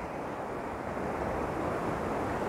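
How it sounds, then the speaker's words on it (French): Small ocean waves rolling in onto a shore, a steady, continuous wash of surf with a windy, rushing texture and no voices. "Les rouleaux, mais là c'est des petits rouleaux, c'est des vaguelettes, c'est joli."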